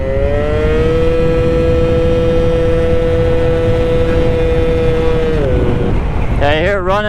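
A Honda Elite/Dio scooter engine holds a loud, steady high idle during carburetor tuning, its tone dropping near the end before wavering revs return, with a voice speaking over it.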